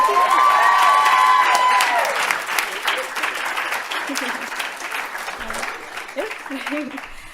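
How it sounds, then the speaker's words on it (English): An audience applauds at the close of a last lecture, dense, loud clapping with a few whoops that slowly thins out and fades toward the end. "Another round of applause for Dr. Kennedy."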